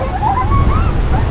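Ocean waves rush and roar nearby at Balagbag Beach under drizzle, mixed with wind buffeting the microphone in a brief, loud burst.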